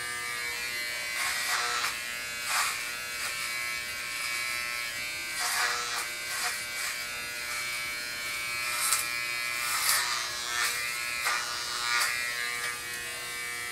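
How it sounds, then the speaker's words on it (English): Electric clippers shave the top of a head, giving a constant close buzz with repeated brighter surges as the blades pass over the hair, with no talking. "I'm thinking about shaving the top now"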